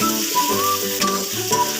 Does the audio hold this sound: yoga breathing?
no